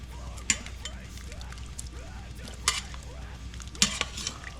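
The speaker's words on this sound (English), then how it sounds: "Mix that all up real good." Shredded venison stirred in a pan, soft scraping and gentle sizzle with a few sharp utensil clinks against the pan, close and moderately quiet.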